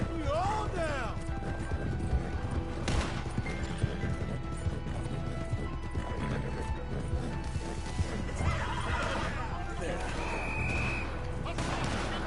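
In Red Dead Redemption 2, a horse whinnies and snorts amid clip-clopping hooves, crashes and in-game bustle, with people talking over the busy scene.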